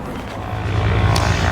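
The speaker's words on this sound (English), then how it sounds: "there's so many planes moving around. One taking off over there." A propeller airplane takes off at Duxford airfield, a low rumbling engine drone that swells steadily louder from a distance, alone without voices.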